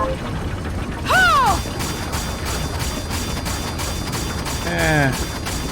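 Rapid-fire weapon attack in the action game Bloodstained, a fast rattling mechanical stream of repeated hits with two swooping whistling tones, steady and fairly loud throughout.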